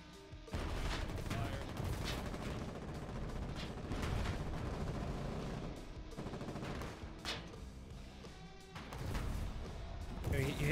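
Artillery fire in the war game Foxhole, a string of booming shots and gunfire bursts at a steady clip, loud and dense under light game noise.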